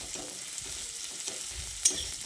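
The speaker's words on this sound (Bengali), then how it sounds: "এবার পেঁয়াজ আর কাঁচা লঙ্কাটা দিয়ে তেলের সঙ্গে ভালো করে নেড়ে চেড়ে মিশিয়ে নিচ্ছি।" Onion and green chilli being stirred in hot oil in a pan, a soft, fairly quiet sizzle broken by light scraping strokes of the spatula and one sharper clink near the end.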